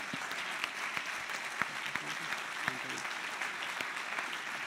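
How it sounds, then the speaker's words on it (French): Teams applauding coaches and prototypers at a 24-hour event, a dense crowd of clapping hands with a few sharp nearer claps standing out, steady throughout, with faint murmuring voices underneath. "Levez-vous et faites-vous applaudir par le reste des équipes"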